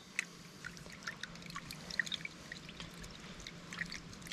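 Soapy water sloshes and trickles as brushes stir suds in a bucket, used for finding a small leak in a tire; soft splashes and drips come close and fairly quiet, irregular throughout.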